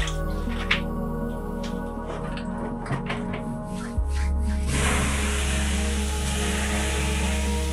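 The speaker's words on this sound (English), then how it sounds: "As you throw water on the stones, the room instantly fills completely with steam." Water thrown onto hot stones in a sauna at an Arctic ice hotel in Lapland, with drips and crackles followed by a sudden, sustained loud hiss of steam rising close by.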